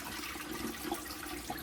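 Cloudy rice-rinsing water poured off from a pot, a steady soft gurgling flow with small splashes, close and continuous, no talking.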